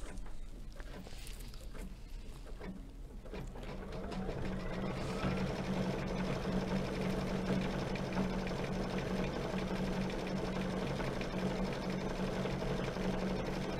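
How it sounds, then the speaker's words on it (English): A sewing machine stitches a decorative pattern into leather with a fast, steady mechanical whir and clatter, starting after a few seconds of quiet handling noise and running continuously, close and even. "let's go back to our machine. And we're gonna do the decorative stitch now"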